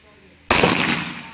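A single sharp gunshot from a firearm at a sport shooting range, loud and close, cracking out after a quiet moment and ringing with a short decaying tail.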